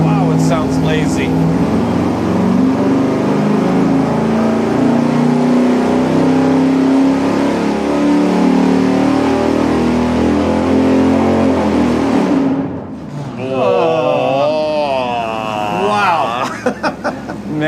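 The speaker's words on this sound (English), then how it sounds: "Man, that is such a lazy engine." A V8 engine on a dyno revs hard and steadily under load for a long pull, camshaft advanced 10 degrees, a loud deep rumble, then drops off and settles with people talking.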